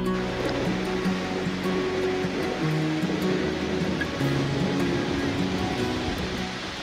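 Sea waves wash onto a beach at low tide near Alibaug on the Konkan coast, a steady, loud surf roar filling the whole stretch with some tonal background hum.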